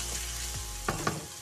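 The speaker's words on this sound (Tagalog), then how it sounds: "Igisa natin si bawang." Garlic sautéing in a pan for a sardines and glass noodle dish, a soft steady sizzle with a couple of brief stirring scrapes, close and fairly quiet.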